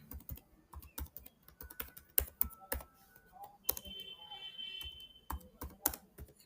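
Close keyboard typing while entering Apex trigger code for a Salesforce roll-up summary: quick clusters of sharp key clicks with short pauses between bursts, heard alone without talk.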